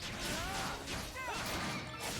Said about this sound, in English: That was like the stock flesh-smashing sound effect, right?